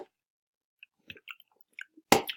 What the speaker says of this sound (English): if you're chewing in the background, that's me